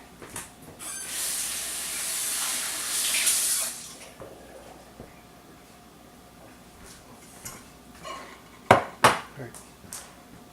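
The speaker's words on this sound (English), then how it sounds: "Let me rinse this off." A pan is rinsed under a running kitchen tap, a steady broad gush of water for a few seconds, then quieter handling with sharp clanks of the pan near the end.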